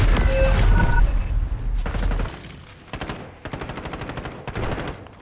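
Heavy gunfire in Call of Duty: Warzone, a loud close burst followed by rapid automatic volleys that stop and start again.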